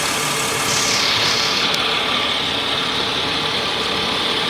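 Ford Windstar with a 3.8L engine idling roughly under a cylinder misfire from a bad coil pack, a loud, constant engine drone heard up close with no speech.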